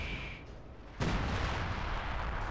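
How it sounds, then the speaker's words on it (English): Artillery barrage in Company of Heroes 2 pounding Soviet armor and infantry in a Rzhev tank battle: a low rumble, then a sudden loud impact at about one second followed by heavy sustained booming. "artillery being used in this sector, trying to dislodge all this armor and infantry"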